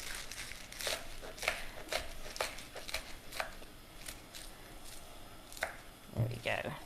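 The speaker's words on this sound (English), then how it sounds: "I'm really chopping it very roughly." Rough chopping of food for a lamb curry with spinach, a knife knocking through it on a board in an irregular run of sharp, close strikes, fairly quiet with some crinkling between cuts.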